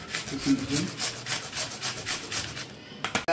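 An onion is grated by hand on a grater for a thalipith batter, producing repeated close rasping scrapes in a quick back-and-forth rhythm, ending with a few louder knocks.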